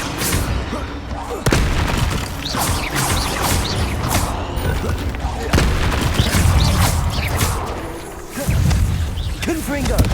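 Stupefy spells cast in a Hogwarts Legacy battle hit as repeated loud booms and crashes over a busy mechanical clatter of combat effects.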